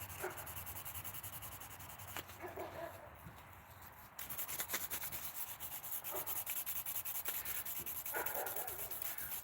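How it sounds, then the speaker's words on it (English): A mouse-shaped palm sander working wood, a continuous buzzing, rubbing drone with brief dips and shifts in pressure, heard up close with a few faint background sounds. "I've been using a mouse-shaped palm sander."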